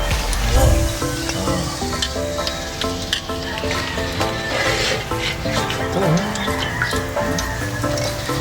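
Food sizzles and crackles steadily in hot oil, a busy frying hiss close by, with faint background clatter.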